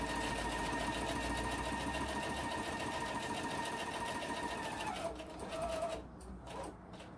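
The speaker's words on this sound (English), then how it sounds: "I'm really trying to be very cognizant of where the stitch is while I'm sewing this down." A sewing machine stitches a fabric face mask, running in a steady, fast whirring rhythm for several seconds, then slowing into a few short stuttering bursts before it stops. Close and clear with no talking.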